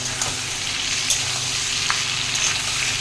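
Onion and potato frying in hot oil with salt, a constant close crackling sizzle that stays even throughout, with a couple of faint clicks on top.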